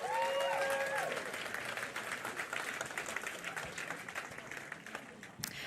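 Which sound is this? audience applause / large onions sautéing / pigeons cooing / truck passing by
audience applause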